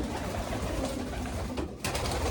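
Pigeons coo steadily in a loft housing hens, cocks and stock birds, a continuous close layer of overlapping soft calls with no break.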